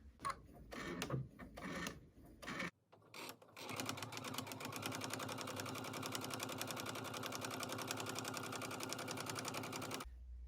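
A sewing machine stitches channel lines on a quilt block, running as a fast, even mechanical whir for several seconds after a few brief starts and stops.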